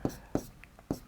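Chalk or marker strokes on a board during a Class 12 probability maths lesson, three sharp scratchy taps at even intervals with a faint murmur between them.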